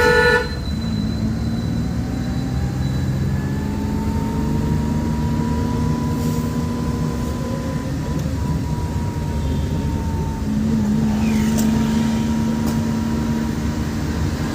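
A car horn sounds during a driving lesson as the car moves slowly down a street, giving a sustained honk late in the clip over steady road and engine noise.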